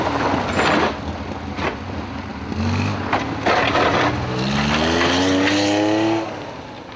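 A Porsche 911 is driven hard on a rally test, engine loud and close, rising through rapid climbing revs with brief tire scrabble and gear changes.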